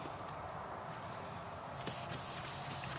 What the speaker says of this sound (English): I'm going to clean it with some TSP.